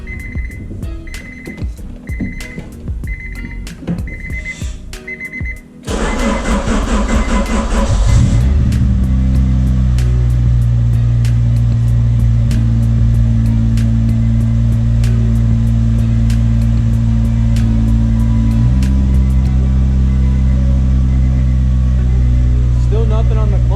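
A 1989 Honda Prelude 4WS cranks over and catches after a few chime beeps, then settles into a loud, steady idle close by, with a slight shift in pitch near the end.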